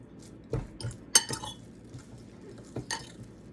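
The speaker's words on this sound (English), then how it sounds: "I just mix this, being sure to smash up any clots in the coconut flour" A fork scrapes and clinks against a bowl while mixing egg, coconut flour, spices and chopped pepperoni, with a few separate stirring strokes and sharp chinks close up and no voice.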